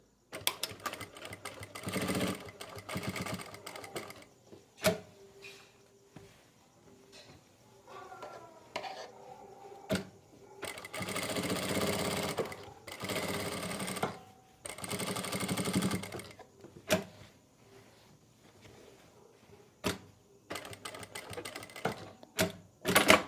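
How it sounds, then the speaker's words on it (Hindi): A sewing machine stitches all around a folded V collar neckline in bursts, with short runs of rapid mechanical clatter separated by quiet pauses and handling sounds. "ऊपर से पूरे राउंड में एक सिलाई लगा लेंगे"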